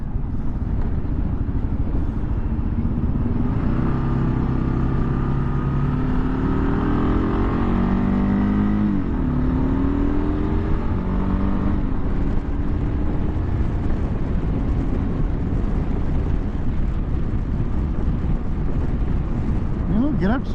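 A 2023 Kawasaki KLR650 single-cylinder motorcycle engine rises in pitch through the gears while riding, steady wind and road noise underneath, with the rider talking over the engine.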